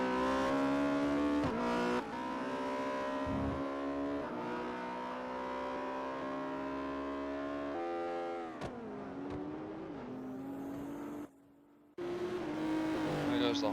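A Porsche Spyder race car in Forza Motorsport 4 roars continuously through the gears, its engine pitch climbing and falling through shifts, with a short cut-out near the end and a voice talking over it at times.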